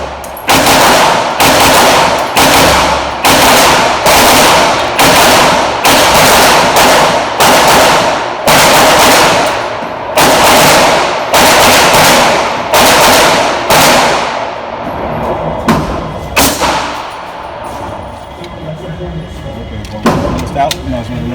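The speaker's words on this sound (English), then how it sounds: "Let's hit it with some double taps." Pistol double-tap shots at an outdoor shooting range, loud sharp pairs of bangs repeating in quick rhythm for most of the stretch, then thinning to a few scattered shots near the end.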